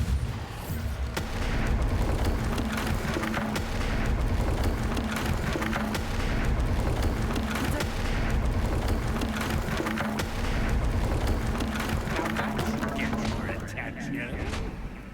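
Bombarda spell explosions in the wizarding game Hogwarts Legacy, a steady stream of booming blasts and splintering impacts across a loud combat scene, with a voice talking over it.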